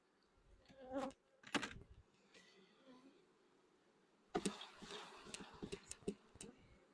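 Honeybees from a Pennsylvania nuc hive buzz close by in scattered passes, quieter at first, then a denser cluster of buzzing with brief loud fly-bys.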